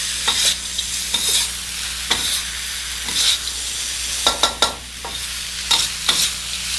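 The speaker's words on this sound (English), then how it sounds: "we're going to saute it all up together for our grand finale" Rice and vegetables are sautéed together in a pot during an Indian feast, a loud continuous sizzle broken by repeated scraping spoon strokes folding everything in, close by with no speech.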